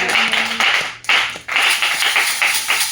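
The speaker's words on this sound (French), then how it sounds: "Est-ce qu'on peut applaudir notre Dieu?" A church congregation clapping during a French-language service, several bursts of clapping with a brief gap in the middle, close and fairly loud.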